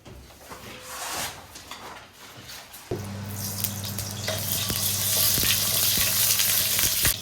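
Scallion and ginger hit hot oil in a wok for a New Year's Eve dinner, bursting into a loud, sustained sizzle after a few seconds of quieter kitchen clatter, with sharp scrapes and clinks of stirring over the crackle.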